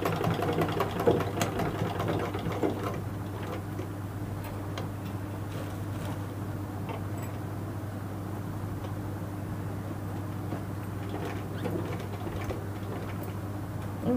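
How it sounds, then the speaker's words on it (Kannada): Sewing machine running steadily while stitching a blouse tie string at a tailoring class, a continuous low mechanical hum with a fast ticking needle rhythm, close and even throughout, no talking. "ಹೊಲಿಗೆ ಹಾಕ್ತಾ ಇದ್ದೀನಿ"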